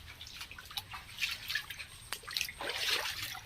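Irrigation water trickling into a banana plantation: soft, uneven dripping and gurgling over a low background hum, faint and close.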